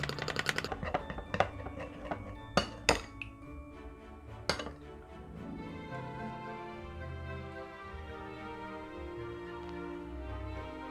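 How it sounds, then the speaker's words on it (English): Melted chocolate is beaten in a bowl until thick, with a few sharp clinks of utensil against the bowl at first, then a softer, continuous scraping and stirring, close and fairly quiet. "Beat the chocolate until thick."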